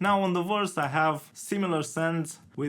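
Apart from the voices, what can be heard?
No distinct noise like a dog, phone or traffic.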